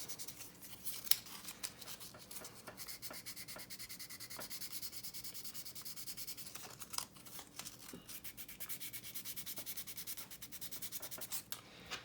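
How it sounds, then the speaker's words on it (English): Fine 600-grit sandpaper rubs back and forth in quick, steady strokes over CA glue and metallic pigment filler, a soft, close scratching that continues without pause. "now I've just got a 600 grit piece of sandpaper, and I can come in here and just start sanding"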